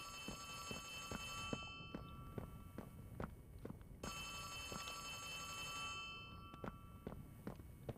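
In the Poppy Playtime Chapter 3 video game, a telephone bell rings in repeated bursts over an ambient background, with soft footsteps thudding at an uneven pace throughout.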